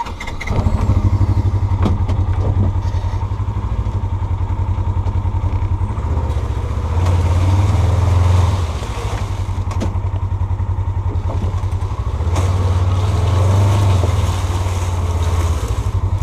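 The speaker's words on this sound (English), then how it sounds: "Sometimes it's fun just taking a ride on the Ranger through the woods." Ranger utility vehicle riding through the woods, its engine droning steadily and loudly up close, with low rumbling swells as it moves and occasional knocks and rattles over the terrain.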